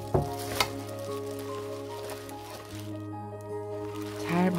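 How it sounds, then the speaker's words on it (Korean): Napa cabbage being tossed and mixed by hand with aged kimchi seasoning, giving close, continuous wet squishing and smacking with a few sharper slaps, no talk over it. "양념 숙성시켜 놓은 것을 넣고 버무려 줍니다."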